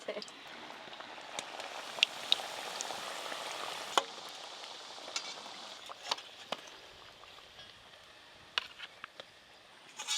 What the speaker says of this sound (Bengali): এইগুলো হলেই সব ভাজা হয়ে যাবে